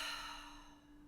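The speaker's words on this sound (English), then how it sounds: "Take a deep breath in" A deep breath drawn in during a guided seated relaxation, soft and close, a single airy intake lasting about a second with no other sound.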